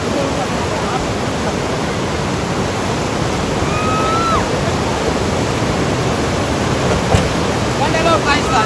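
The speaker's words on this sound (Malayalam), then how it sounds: "അവിടെ വെള്ളത്തിന് നല്ല സൗണ്ട് ഉണ്ട്," Rushing river water in Manali roars as a loud, continuous broadband wash close by, with faint tonal chirps and a brief clatter near the end riding over it.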